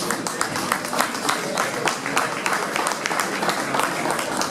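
An audience at the Beaune half-marathon applauds a runner, with steady, fairly dense clapping from a crowd and a voice talking faintly underneath.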